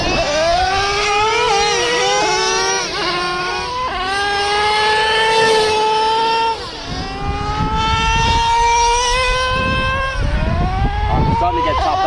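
A Traxxas Revo 3.3 nitro RC truck engine screams at top speed, a high, buzzing whine that rises and falls in pitch with repeated revving sweeps, with a voice talking over it.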